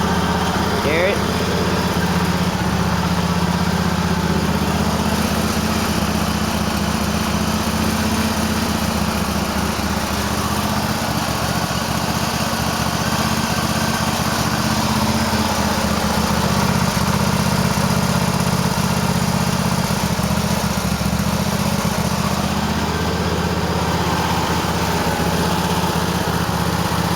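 A Cub Cadet lawn tractor engine idles roughly with a steady, loud, close mechanical drone that barely changes over the whole stretch, with no clear talking over it.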